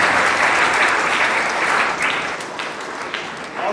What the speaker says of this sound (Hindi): हम फादर नेपोलियन, फादर अमीर के लिए हम जोरदार तालियों के द्वारा धन्यवाद